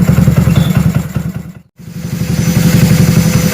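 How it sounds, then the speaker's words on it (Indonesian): A Honda C70 motorcycle converted from carburetor to fuel injection idles steadily with a loud, close, even putter and a momentary dropout partway through. "Ketika mesin panas dia mulai kelihatan langsam."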